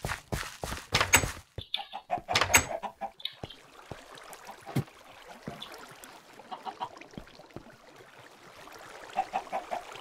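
Minecraft chickens cluck softly in short bursts, with a few sharp clicks and taps mixed in at a moderate distance.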